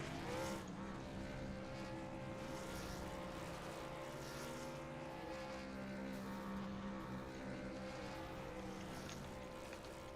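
Two pickup trucks from an iRacing SRM Truck Series race at Nashville Superspeedway do a double burnout in the video game, a loud, steady engine roar that drones continuously throughout.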